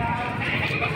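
Goats at a Batangas goat market give a brief, close bleat that blends with people talking over it.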